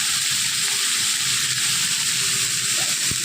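Winter vegetables and onions frying in a pan, a constant bright hiss of sizzling oil with soft low stirring scrapes and a small knock near the end.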